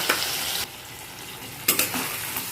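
Spice paste frying in a hot pan, a continuous close sizzle broken by a few louder scraping stirs of a spoon against the metal.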